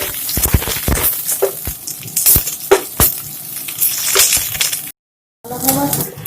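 Onions sizzle steadily in hot oil in a pan for an Assamese-style egg and papaya curry, with stirring clatters and scrapes over the constant frying, briefly cut off near the end.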